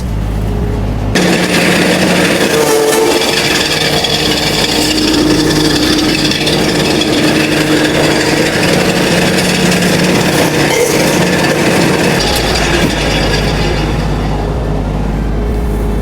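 A machine shreds straw into fine chaff, starting abruptly into a loud, continuous engine drone with rattling and churning throughout, a deeper low hum joining near the end.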